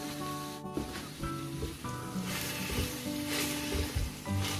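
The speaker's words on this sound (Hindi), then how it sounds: "ये मेरे पास 1 किलो कीमा है, चिकन कीमा, ये मैं इसमें डाल दूंगा" Chicken keema, about one kilogram, sizzling steadily in a hot pan with no oil or ghee, a continuous loud hiss with scraping stirs mixed in, no voices.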